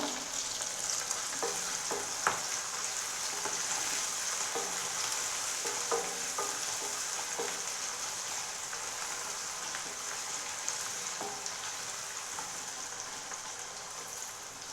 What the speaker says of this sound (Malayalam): അപ്പോൾ ഇത് നന്നായി ഇളക്കിയിട്ട് നമുക്കിതൊന്ന് റോസ്റ്റ് ചെയ്തെടുക്കാം